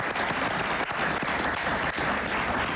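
Steady audience applause during an interview with a fan of Ricardo Arjona, dense and continuous across the whole moment with no pauses.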